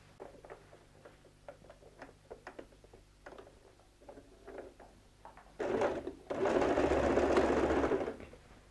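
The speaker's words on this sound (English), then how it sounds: "secure it with a few pins, and go and sew a straight stitch" A sewing machine runs a straight stitch through recycled denim for a bag, first with faint scattered ticks and clicks, then a loud sustained whirring burst of stitching near the end, close and without talk.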